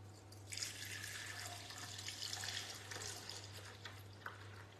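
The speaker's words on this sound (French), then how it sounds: "on va verser la préparation dans la cuve" A yogurt mixture is poured into the bowl of a yogurt maker, giving a soft, steady liquid splash that runs for several seconds over a low constant hum, with no talking.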